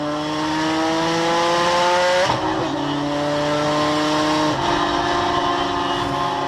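A car drives with its tires squealing in sustained tonal whines that shift pitch abruptly a couple of times, loud and close, with the engine running underneath and no talk.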